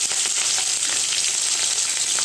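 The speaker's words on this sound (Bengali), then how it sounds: "আমি তেলের মধ্যে এবার কিন্তু পুঁই শাকগুলো দেবো, কিন্তু তার আগে আমি একটু পেঁয়াজ দিয়ে দিচ্ছি, দুটো লঙ্কাও দিয়ে দিলাম" Onion and two green chillies frying in hot oil in a pan, a steady close sizzle with crackling spatter running unbroken throughout, no voices.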